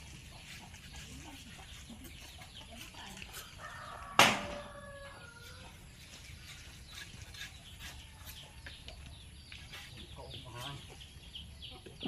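A rooster crows once, loud and brief, in a rural coconut palm setting where tuba wine is collected, standing out against a quiet background hum with softer clucks and faint voices around it.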